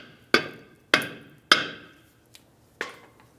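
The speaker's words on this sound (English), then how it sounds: "Now taking a hammer, just tap on these areas." Four sharp metallic hammer taps ring on a Chevrolet Silverado 1500 rear brake drum, evenly spaced with brief ringing decay, plus one faint tick between the last two blows, close and alone.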